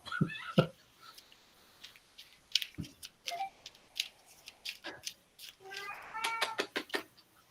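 A cat meows several times in short, close calls with gaps between them, and faint clicks are heard alongside.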